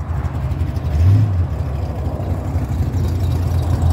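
A 1988 Oldsmobile Cutlass Supreme muscle car with a big engine under the hood gives a loud, close low rumble that swells in a short rev around the one-second mark, then holds a steady drone.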